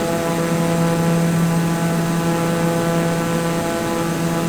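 Steady, loud propeller airplane engine drone with a constant tonal hum on approach to Lukla airport after leaving Kathmandu, unbroken and close throughout.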